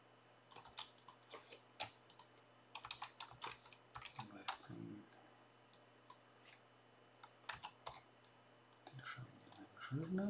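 Quiet clicking of fingers typing on a computer keyboard, irregular bursts of keystrokes with short pauses, faint and close, under a low steady background hum.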